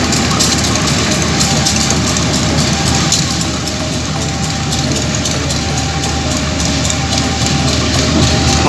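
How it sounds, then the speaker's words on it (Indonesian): A heavy locomotive engine drones loudly and steadily nearby during shunting, with a deep rumble and faint metallic rail sounds. "ini kita melihat lokomotif di langsiran untuk pindah posisi ke sini"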